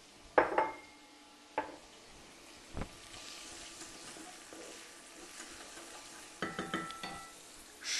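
Bacon, onions and garlic go into hot oil in a pan, making a quiet, faint sizzle punctuated by a few sharp metallic clanks of utensil against pan near the start and end.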